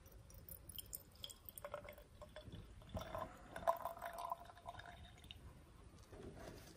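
Distilled water rinsed from a lab beaker is poured into a vessel, a soft, faint trickle and dripping with a few light glassy clinks, fairly close and quiet.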